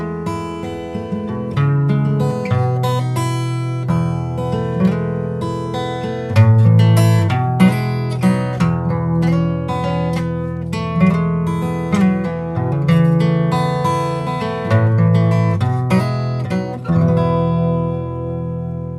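Strummed acoustic guitar chords with a partial capo ring out in a steady, full progression of open and closed chords, bright and close, with no voices.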